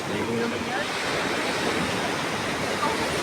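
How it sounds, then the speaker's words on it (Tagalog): Heavy surf roars steadily and loudly on the coast at Lobo, Batangas, Philippines, a dense unbroken wash of crashing water close by. "Malakas ang alon."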